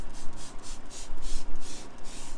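Several quick hissing sprays of tire cleaner from a trigger bottle onto a wheel and tire, repeated in a rapid uneven rhythm, close up with no talking.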